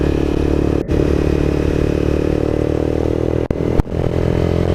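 Honda CBR 250R motorcycle fitted with an Akrapovic exhaust, riding on the road with a steady, loud engine drone and wind rush throughout, broken by a couple of brief clunks.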